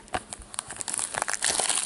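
Plastic wrapping being torn and crinkled off a Masterpieces trading card box, a close, busy run of crackling and rustling that grows denser toward the end.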